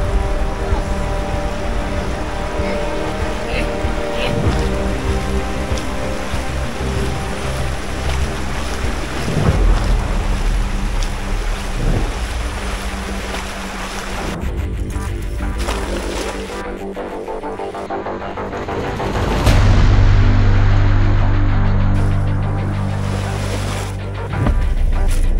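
Floodwater swirls and splashes steadily as someone wades through a deep flood, a continuous rushing wash with wind buffeting the microphone and a louder surge near the end.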